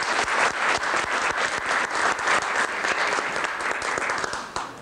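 Dense, steady applause from a large audience at a fundraising gala for a charity association in a city hotel ballroom, many hands clapping at once and holding full strength before easing slightly at the end.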